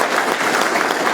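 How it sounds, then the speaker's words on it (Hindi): A brief, loud, even burst of crowd applause at a Brahmin Sabha gathering, dense clapping with no pause. "इसके लिए एक बार जोरदार तालियां लग जाए।"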